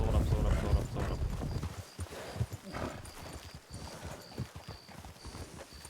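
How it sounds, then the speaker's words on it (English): Horse hooves clip-clopping in the WildRP video game, a steady rhythmic trot close by, with voices talking over the hoofbeats throughout. "There's a horse down here."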